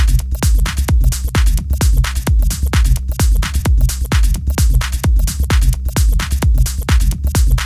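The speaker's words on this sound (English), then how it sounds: "create a polymeter and just strip away a bar" Drum loop turned into a polymeter by stripping away one bar, so its punchy kicks and crisp hats cycle in a slightly shifted, hypnotic repeating groove, loud and continuous without any voice.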